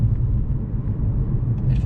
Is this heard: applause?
no